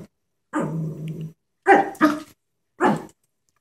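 A Chihuahua growls at a stuffed animal, a low drawn-out snarl followed by three sharp close barks, loud against silence.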